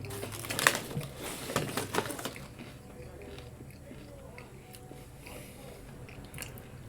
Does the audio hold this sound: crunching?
yes